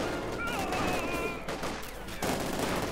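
MG42 machine gun fire in a video game battle: dense, continuous bursts of gunfire with sharp broadband cracks and faint whistling tones over a busy combat background.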